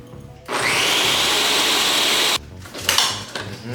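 A blender whirs loudly for about two seconds, blending olive oil seasoning with lemon pepper for fried snapper, then cuts off into clattering kitchen handling noises.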